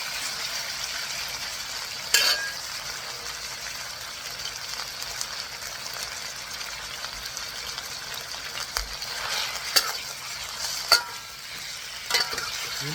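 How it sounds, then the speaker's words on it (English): Beef being stir fried in a pan for spicy Mongolian beef, giving a steady close sizzle with a few sharp scrapes and clatters of stirring. "And always stir fry."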